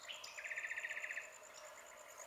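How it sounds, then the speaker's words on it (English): A Mistletoebird calling in Australian tropical forest near wetlands: a close, clear trill of rapid high notes about a second long, set against a steady high insect hum in the background. "Here's the Mistletoebird."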